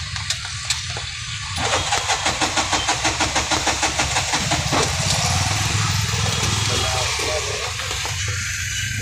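An auto-rickshaw engine stalled after rain, with water suspected in the silencer, cranks in a rapid rhythmic chugging that sputters for several seconds without catching, loud and close, with faint voices around.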